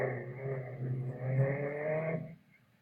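Lamborghini engine in the Roblox game Jailbreak, a smooth synthetic car drone humming steadily for about two seconds before cutting off.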